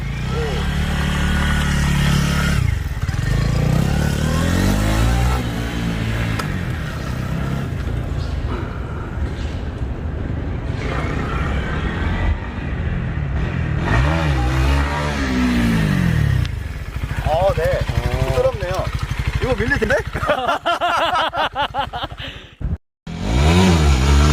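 A Honda CB125R 125cc motorcycle engine runs nearby, rising and falling through several revs and accelerations as the bike moves off, with people talking over it before it abruptly cuts out near the end.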